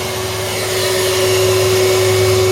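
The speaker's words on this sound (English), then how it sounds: "Vacuum cleaner off." A vacuum cleaner running steadily near a car oil pan repair, a loud constant whine with a strong hum that swells slightly and stays unbroken.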